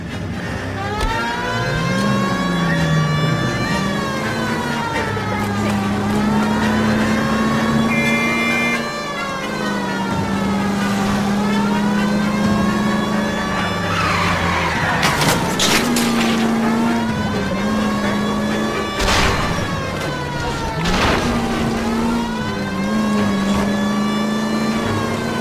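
A 1940s-style car in the LA Noire video game drives in a continuous engine drone that rises and falls through gear shifts, with a siren wailing over it and brief crashes or impacts partway through.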